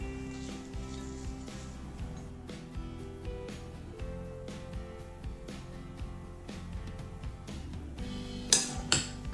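Salad of cucumbers, pepper, apple, ginger and onion being tossed in a bowl, with scattered clinks and knocks of a utensil against the dish, irregular and close, ending in a few sharper clatters.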